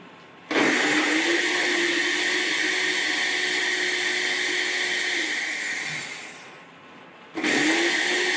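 A kitchen blender runs loud and close with a steady whirring motor for several seconds, winds down and slows, then starts up again after a short pause.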